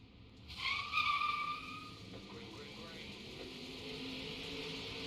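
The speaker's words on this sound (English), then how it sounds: "Jamie Kephart, get tires screeching" Race car tires screech in a dirt late model racing video game at a Charlotte track, a sharp squeal rising over the engine drone for about a second before fading into steady motor noise.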